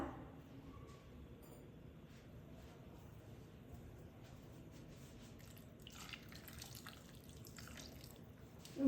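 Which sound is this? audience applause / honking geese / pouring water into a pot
pouring water into a pot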